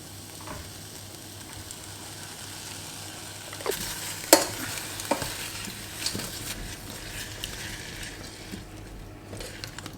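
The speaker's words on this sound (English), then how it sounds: "Return the carrots, it's just on a low heat, and we're going to add a good tablespoon of honey." Carrots cooking gently with a spoonful of honey in a pan over low heat, a faint steady sizzle broken by a few sharp utensil clicks and stirring scrapes midway, close by with no voices.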